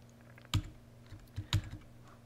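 Keys on a computer keyboard are pressed for an Alt X shortcut, giving two distinct close clicks about a second apart with softer taps in between, over a faint steady hum.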